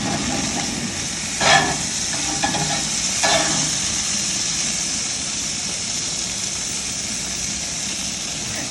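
Hamburger patties sizzle on a grill after being flipped, a steady broadband hiss with a couple of brief louder scraping or popping bursts early on, no talking.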